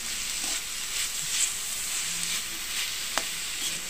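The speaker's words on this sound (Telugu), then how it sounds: "తోటకూర ఫ్రై కూడా వేగిపోతుంది." Thotakura (amaranth leaves) sizzle steadily as they fry in a pan on a stovetop, a soft, even crackle with a few sharper pops, heard alone without voices.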